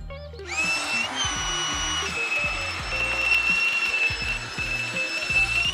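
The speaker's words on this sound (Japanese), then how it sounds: "これですね、エアポンプ、電動で入れてくれるやつですね。" An electric air pump inflating a packraft switches on and runs with a loud, steady high-pitched whine and droning motor hum, continuous after a short start.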